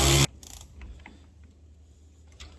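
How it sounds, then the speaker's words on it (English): A wrench tightens a bolt on a truck's rear axle, a loud opening clank followed by faint ratcheting clicks and metallic ticks. "Let me tighten this bolt up"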